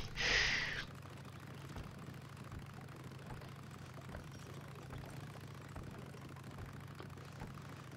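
Motorcycle engine idling in the game Days Gone, a low steady rumble throughout, opened by a brief louder burst of sound before settling into the quiet continuous idle.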